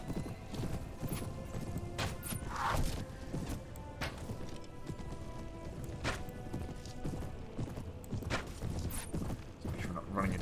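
Horse hooves clip-clopping at speed in the medieval combat game Mount & Blade Warband, with steady rhythmic beats, a whinny and battle clatter, under someone talking throughout.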